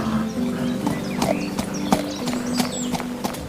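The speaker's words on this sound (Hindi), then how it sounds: "घोड़ा तेजस कदम्बूर की ओर दौड़ पड़ा" A horse is heard clip-clopping with quick, fairly close hoofbeats over a dense rumbling background, with no voices during the run.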